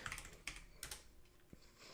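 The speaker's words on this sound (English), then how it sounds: "The ferocity of which I smacked my keyboard took me to another dimension" A hand smacks a computer keyboard hard during app-coding work, giving a few sharp, close key clatters and thumps, the loudest burst near the middle, followed by lighter scattered key taps with no talking.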